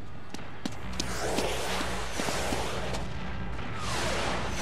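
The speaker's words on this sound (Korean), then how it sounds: "불꽃놀이다." Fireworks burst in the video game inFAMOUS 2, with several sharp cracks and booms scattered over a dense, steady rumble of game noise, loud and fairly close.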